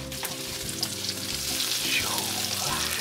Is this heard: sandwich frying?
yes